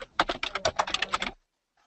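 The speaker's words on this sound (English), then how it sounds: "She's typing with purpose." Someone types briskly on a computer keyboard, a rapid close run of clicky keystrokes for over a second before it stops abruptly into silence.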